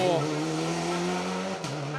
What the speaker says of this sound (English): And there's a car which we knew would be driven very sideways